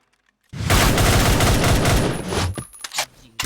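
Counter-Strike gunfire: a loud, dense burst of rapid automatic shots lasts about two seconds, then trails off into a few scattered, fainter shots.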